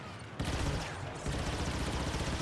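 Continuous volley of gunfire in the Star Wars Battlefront II video game, a dense, loud burst of rapid shots that thickens partway through and keeps going without a break.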